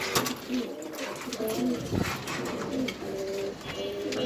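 Pigeons coo repeatedly in low, soft rolling calls over a steady background hum, several birds overlapping at close range, including a Spanish pouter, at a pigeon farm.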